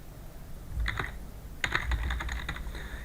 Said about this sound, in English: here I'm going to type in my account username